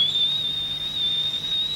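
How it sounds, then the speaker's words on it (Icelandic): Cartoon kettle whistling with a steady, piercing high tone that holds constant and loud throughout, with no voices. "Þarna flautar ketillinn."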